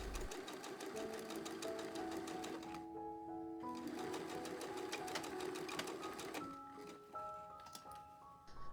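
A sewing machine stitching a pants seam runs in rapid, steady bursts, with a short pause and a brief reverse back tack partway through, then sewing resumes, close and clear.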